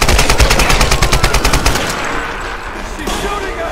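Rapid bursts of automatic gunfire crackle in a Tomb Raider Definitive Edition firefight, loud and dense for about two seconds, then thin out into scattered shots over a lingering rumble.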